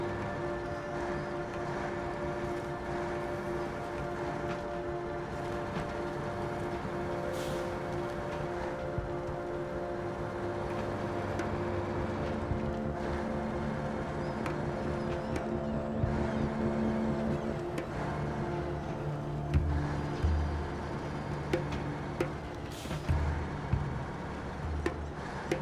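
A heavy truck engine idles and rumbles continuously in SnowRunner at a pier in Zimnegorsk, Russia, a steady low drone with occasional creaks and knocks, moderately quiet and without talk.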